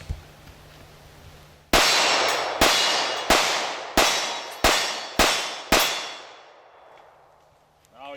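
Seven sharp, loud pistol shots from a Smith & Wesson M&P Shield in .45 ACP firing Federal aluminum-cased ammunition, fired at a quickening even pace, each cracking shot followed by a short ringing decay, outdoors.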